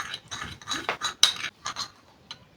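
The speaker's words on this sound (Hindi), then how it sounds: "अगेन इसे बहुत अच्छे से मिक्स कर लेते हैं।" A homemade cream mixture with vitamin E capsules gets stirred in a bowl, with a series of soft clinks and scrapes of a utensil against the container in irregular bursts, close and quiet.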